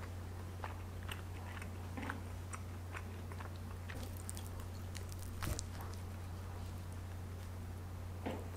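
Someone bites and chews kimchi pizza close to the mic in a quiet room, with soft crunches and wet mouth sounds scattered over a steady low hum, one sharper bite standing out midway.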